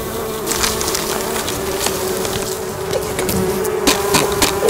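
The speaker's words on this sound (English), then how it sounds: "That bundle is all bees?" A swarm of bees buzzes loudly and steadily throughout at an old building, a dense continuous drone with no talking.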